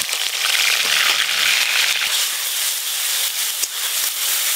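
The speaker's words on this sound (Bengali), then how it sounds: "এবার দেব গ্রেট করে রাখা পেঁয়াজ" Grated onion hitting hot mustard oil already spiced with tea leaves and whole spices, a loud, dense, continuous sizzle and hiss that stays steady throughout with no talking.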